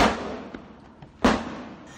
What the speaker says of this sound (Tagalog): Umalingaw-ngaw ang mga putok sa bahaging ito ng tipo-tipo Basilan kaninang umaga.